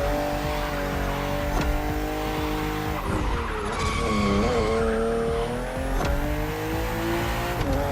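BMW race car in The Crew Motorfest, engine droning steadily through a narrow, twisty circuit, pitch dipping and rising through bends with tire squeal and skids, loud and continuous, no talk.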